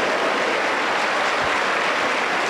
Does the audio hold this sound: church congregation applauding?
yes